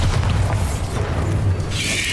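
A Bombarda explosion spell from Hogwarts Legacy, a loud, sustained booming blast with heavy low rumble, ending in a bright crackling burst.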